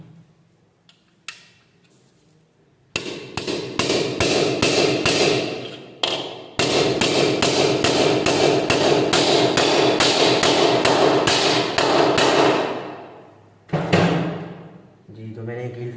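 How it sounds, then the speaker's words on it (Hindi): A hammer drives nails into a split air conditioner's metal mounting plate on a wall, loud rapid strikes in two long bursts with a short pause, then a final blow and fading ring. "अब मैं इसको एक और कील मार दूँगा, यानी ये मैं इसको ठोक दूँगा आप कीलों से"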